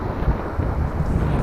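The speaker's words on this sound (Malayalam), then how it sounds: "കുറച്ച് കാറ്റ് കൂടുതലുണ്ട്," Strong wind buffets the microphone at a mangrove fishing spot on the Kerala coast at high tide, a steady loud low rumble that runs unbroken throughout with no voices.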